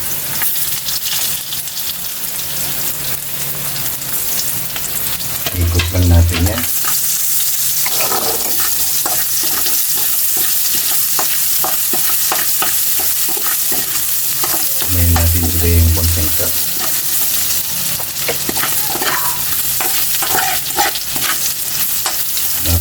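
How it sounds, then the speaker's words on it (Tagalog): Ginger sautés in a hot pan for sinigang sa miso, a steady close sizzle and crackle of frying with a spatula stirring and scraping through it, plus two louder clattering bursts. "Tara, mag-umpisa na tayo magigisa sa ating mga sangkap. Unahin mo natin yung luya."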